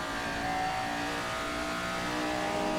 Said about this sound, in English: Some nice sounds from that Cosworth DFV.